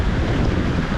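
Ocean waves wash onto an afternoon beach in a steady, broad roar, mixed with heavy wind buffeting the microphone.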